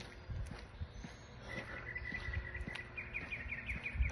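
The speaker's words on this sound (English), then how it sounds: "I can hear birds." Faint bird chirps and tweets scattered over a quiet outdoor background with a soft insect-like hum, calm and distant.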